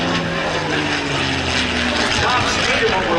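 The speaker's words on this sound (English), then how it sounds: "the P-51 Mustang" World War 2 P-51 Mustang fighter with a Packard-built Merlin engine roaring at an air show, a loud, steady droning pass under an announcer speaking over the PA.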